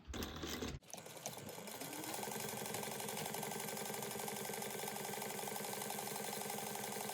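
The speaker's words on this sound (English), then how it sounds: "you're going to top stitch this at 1/8 of an inch" A sewing machine topstitching fabric 1/8 inch from the edge for a sew-along project, with a short handling noise and then a steady, close, rapid mechanical whir and clatter running continuously without talk.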